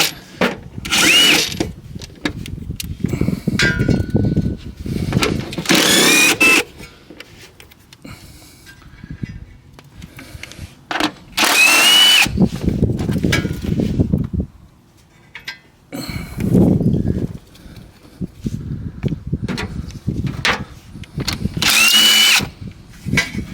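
Power tool, likely a drill or impact driver, removing bolts in a 1991-era car engine bay during carbon canister and AIV removal; several loud bursts of whirring, each a few seconds long, separated by quieter gaps.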